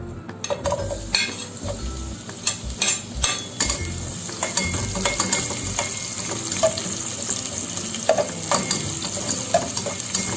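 Onion stir-frying in a pan for ginisang upo with sardines or mackerel, a steady close sizzle broken by scraping stirs and utensil clatter, with some running tap water also mixed in.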